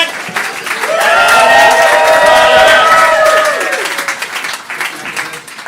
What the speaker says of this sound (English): Give all of your applause to Ken.